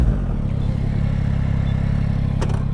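A Yamaha MT-09 three-cylinder motorcycle idles close by with an even, rapid low burble and steady pulsing, plus a brief click near the end.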